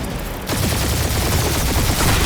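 Rapid automatic gunfire erupts in a spaceship dogfight in the Guardians of the Galaxy game, a loud, dense stream of quick shots that starts abruptly and continues without pause.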